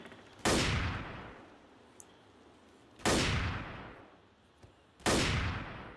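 Shotgun blasts from the Left 4 Dead video game: three loud, sharp shots spaced about two and a half seconds apart, each trailing off in a long decaying rumble, with faint clicks between them and no talk.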